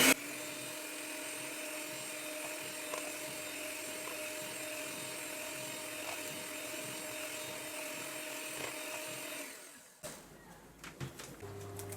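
An electric mixer beats sponge cake batter in a bowl with a loud, steady whir that holds its pitch, then cuts off and gives way to a few light clatters and quiet handling noises.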